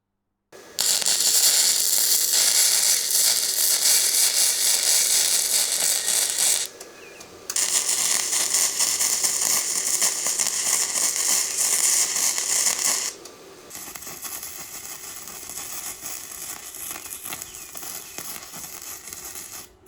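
A flux core wire welder running on tool steel gives a loud, continuous crackling buzz in three long bursts, with brief pauses between them and a quieter stretch at the end.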